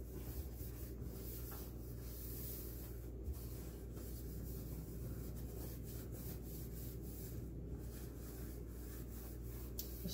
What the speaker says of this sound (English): you just start wiping the top of the stove